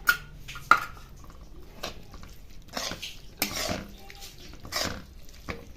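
Khoya and sugar mixture being beaten and stirred into carrot halwa, with spoon clinks against a metal pot, scraping and intermittent clatter, close and moderately loud, no talking.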